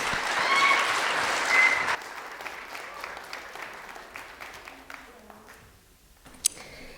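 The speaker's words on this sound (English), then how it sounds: "Please give her a round of applause." An audience at a youth speech competition finals applauds to welcome a speaker, loud and dense at first, then thinning into scattered claps and fading toward the end.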